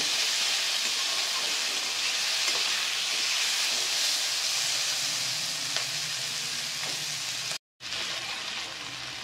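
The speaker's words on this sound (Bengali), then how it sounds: "আলু আর পেঁয়াজগুলো কিন্তু টমেটো সব একসঙ্গে ভাজা ভাজা হয়ে গেছে।" Potatoes, onions and tomatoes fry together in a pan for a Bengali tengra fish curry, giving a steady, close sizzling hiss that runs unbroken except for one brief cut near the end.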